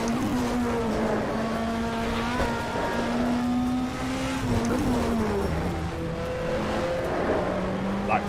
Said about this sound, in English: you still got that 2 litre naturally aspirated engine, just making all the noise